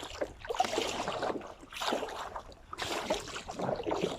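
A kayak paddled through backcountry water, rhythmic swishing strokes splashing close by about once a second, with light wind in the background and no talk.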